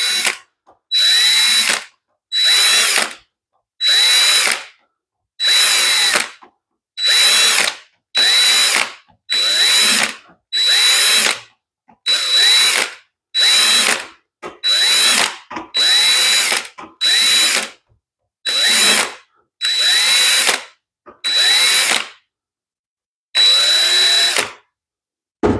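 A power drill spins a countersink bit into ABS plastic in repeated short, loud bursts of about a second each, separated by brief silences, with a high whine over each one.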